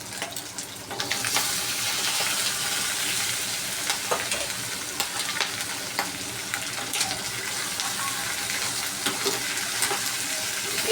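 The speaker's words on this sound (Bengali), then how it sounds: "মাছটা তো ভাজা ভাজা হয়ে গেছে, এখন এর মধ্যে পেঁয়াজ দিয়ে দেবো" Prawns and onion frying in a pan, a loud continuous sizzle with scattered spatters and stirring knocks, close up and unbroken for the whole stretch.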